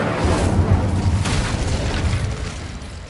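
An Incendio fire spell is cast in Hogwarts Legacy, giving a loud, rumbling fiery whoosh and boom that sustains for a few seconds before tapering slightly.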